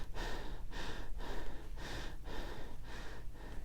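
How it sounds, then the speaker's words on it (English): Rapid, shallow chest breathing done on purpose in an exaggerated way, a steady run of about six quick, close breaths with short gaps between them and no talking. "there's the exaggerated chest breathing,"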